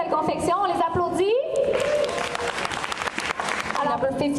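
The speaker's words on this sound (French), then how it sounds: "On les applaudit." A convention audience at Fantasticon in Montreal applauds a costume contestant. A voice comes first, then dense crowd clapping builds and carries on with chatter mixed through it.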